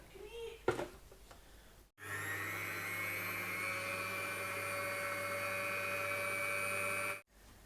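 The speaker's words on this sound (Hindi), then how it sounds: "अब सबसे पहले हम क्रीम डाल लेंगे और इसको थोड़ा बीट करेंगे" An electric beater whips cream with a steady, high motor whine for about five seconds. It starts and stops abruptly, after a moment of light handling clatter.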